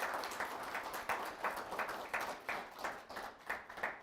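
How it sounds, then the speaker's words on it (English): A round of applause at a community empowerment meeting in a hotel venue, many hands clapping in a fairly rhythmic pulse, somewhat distant and soft, lasting several seconds with no speech. "Let's give them another round of applause."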